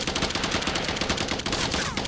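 Minigun and cannon fire in a sci-fi mech shooter game burst out in a dense, continuous rattle of rapid shots, loud and unbroken for the whole stretch.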